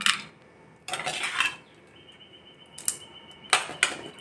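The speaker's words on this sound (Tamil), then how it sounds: "இப்போது நம்ம சர்விங் பவுலில் சர்வ் பண்ணலாம்" A spoon scrapes and clinks against a dish several times in short bursts, near and fairly quiet, as tamarind poha is scooped into a serving bowl.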